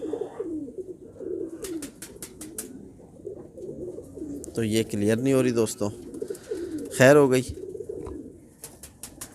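Pigeons coo in throaty, rolling phrases nearby while someone talks over them, with a few clicks in between.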